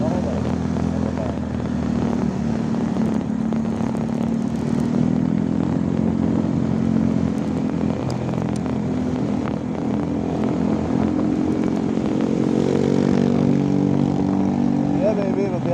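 Repaired motorcycle engine idling and running, a steady low droning rumble throughout with slight pitch shifts near the end, close and loud under intermittent talk.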